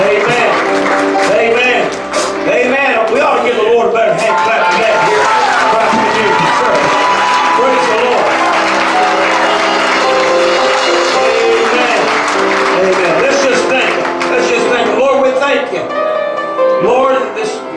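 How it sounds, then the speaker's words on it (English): A church congregation claps for the Lord during a Sunday sermon, a sustained, loud burst of hand clapping and cheering that fills the room, with a voice speaking over it. "We ought to give the Lord a better hand clap than that here."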